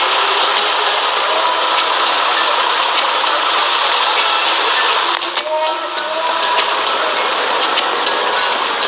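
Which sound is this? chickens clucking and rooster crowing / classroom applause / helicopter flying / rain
rain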